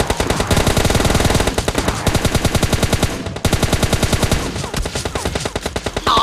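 Rapid bursts of automatic gunfire rattle loudly and almost nonstop, with a brief pause midway and a sharp, mechanical, game-like quality.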